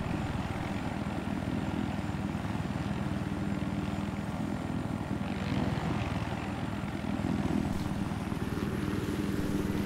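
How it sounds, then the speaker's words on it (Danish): A helicopter in the video game Battlefield 4 flies with a constant dense engine and rotor roar. The loud, unbroken drone lasts the whole stretch, with no voices. "det er lettere at styre sådan her med når man skal styre en helikopter"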